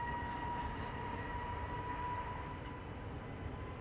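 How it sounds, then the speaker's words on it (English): An EasyJet Airbus A320neo takes off from Schiphol's Polderbaan runway, heard as a steady, faint, distant jet roar with a low rumble that holds throughout. "EasyJet up next to Olbia. A320neo began flying in April this year, really brand spanking new."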